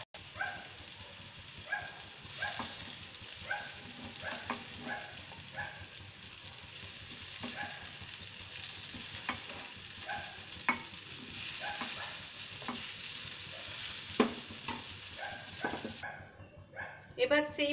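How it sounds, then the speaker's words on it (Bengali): Split-pea lentil balls frying in hot oil in a pan, a steady close sizzle broken by scraping and clinks as they are stirred and lifted out, with a voice speaking over the cooking. "আমার বড়াগুলো একটু ভেজে নেওয়া হয়ে গেছে, এবার এগুলো আমি উঠিয়ে নিচ্ছি।"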